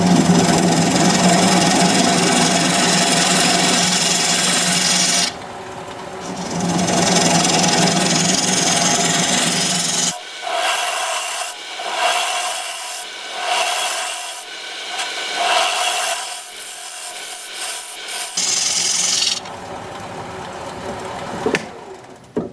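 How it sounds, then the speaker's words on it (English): A 1/2 inch bowl gouge cuts a recess into a walnut bowl spinning on a lathe, loud continuous scraping and rasping in long bursts, broken by short pauses and intermittent lighter cuts. "I'm going to use a 1/2 inch bowl gouge to make the recess"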